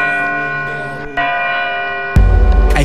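A bell sound effect rings out over a music track, a bright resonant strike with sustained ringing tones followed by a heavier low hit near the end.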